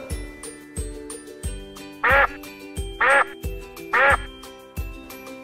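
A cartoon duck quacks three times in a children's phonics alphabet song, each loud quack landing in rhythm over a bouncy musical backing with no talking.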